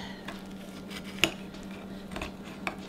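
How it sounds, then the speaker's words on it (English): A knife slicing through a still-warm Japanese fruit pie made with plenty of eggs, giving a sharp clink of blade on the dish and a few soft scrapes and taps, close and quiet with no talk. "I'm ready to dig into this Japanese fruit pie, so I'm gonna cut it."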